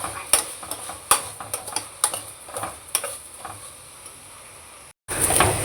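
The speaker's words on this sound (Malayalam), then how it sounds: "ഇനി തീ ഒന്ന് കൂട്ടി വെച്ച് കൊടുക്കണം അരി ഒന്ന് വറുക്കാനാണ്" Washed, drained rice being stirred and roasted in a pan for ghee rice, with a series of sharp scraping clicks from the stirring over a soft sizzle, close and fairly quiet, then a brief gap and steady frying hiss.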